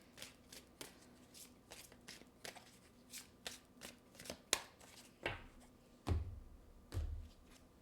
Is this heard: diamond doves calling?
no